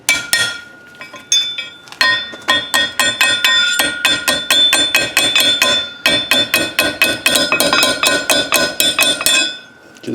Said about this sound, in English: you could take a cold chisel and start hammering over here at the cut